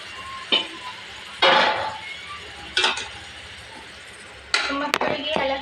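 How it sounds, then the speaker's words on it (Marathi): Marinated chicken for biryani is tipped into a cooking pot and stirred with a utensil, making a few scraping, clinking bursts spaced apart at close range with quiet gaps between them. "आता आपण हे चिकन मॅरिनेट करून ठेवलेलं ते आपण पातेल्यात ओतून घेणार आहोत."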